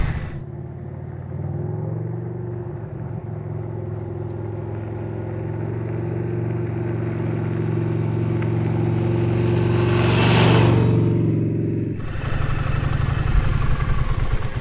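An off-road motorcycle engine runs steadily throughout on a steep dirt climb, a continuous loud rumble with a slight swell in revs near the end before a brief dip and return.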